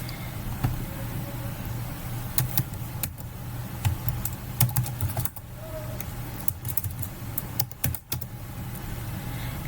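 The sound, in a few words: typing on a computer keyboard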